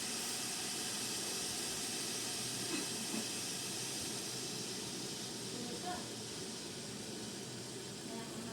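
Water roils in an electric kettle, a steady loud hiss with a low bubbling rumble that runs unbroken throughout.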